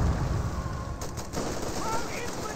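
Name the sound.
rifle gunfire at sandbags in Company of Heroes video game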